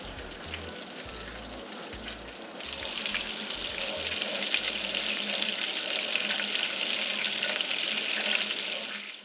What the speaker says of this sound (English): When the butter is fully melted, you're going to keep stirring until it bubbles up and you smell a nutty fragrance.